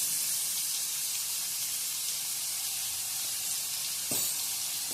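Prawns frying with turmeric in a pan give a steady, close, bright sizzle that runs through the whole stretch, with a brief soft clunk near the end and no talk.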